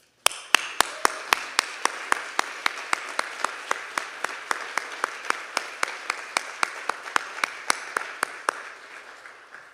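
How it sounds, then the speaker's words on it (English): Audience applause for the president at a Dartmouth climate commitment evening, a steady wash of clapping cut by sharp, evenly spaced louder claps that slowly fade toward the end. "I think we should give her a huge round of applause"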